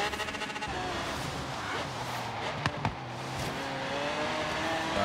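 Car engine in the racing video game Forza Horizon 3, droning and revving steadily throughout, with a couple of sharp knocks midway and game music underneath.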